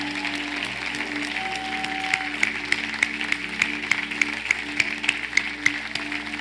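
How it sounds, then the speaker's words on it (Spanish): Congregation applause at a Spanish-language evangelical worship service, a steady patter of clapping held under sustained organ or keyboard chords for the whole stretch, with no talk over it. "Un aplauso al Rey,"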